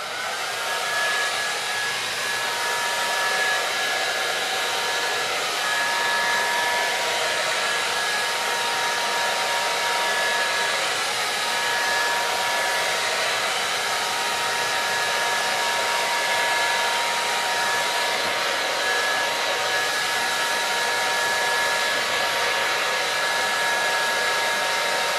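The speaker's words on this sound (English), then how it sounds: "so that is creating me to start my blow dry off to the side." A hair dryer blowing steadily and loudly, close by, while bangs are blow-dried smooth, with no talk over the constant airy whoosh.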